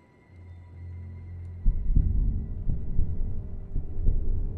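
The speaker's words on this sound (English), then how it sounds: "that's the heartbeat sound, which I remember being a warning" A heartbeat warning sound in Bendy and the Dark Revival, deep thumping pulses starting after a low hum and repeating at a slow, regular rhythm, fairly loud and without speech.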